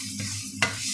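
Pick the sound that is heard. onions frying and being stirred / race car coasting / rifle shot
onions frying and being stirred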